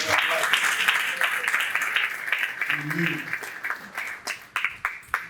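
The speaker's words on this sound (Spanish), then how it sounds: "vamos a darle un aplauso al Señor" A church congregation claps and applauds steadily, the clapping thinning into a few separate claps at the end, with a voice briefly speaking over it.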